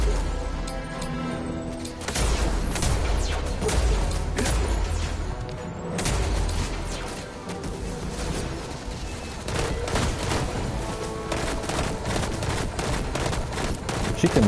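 Rapid gunfire in the video game Destiny 2, loud and dense bursts of shots tumbling over one another with heavy thumps. The volleys run almost unbroken, briefly thinning out before resuming.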